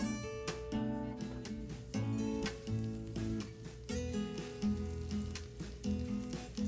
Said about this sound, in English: Now I'm going to add about a tablespoon of olive oil with a tablespoon of butter.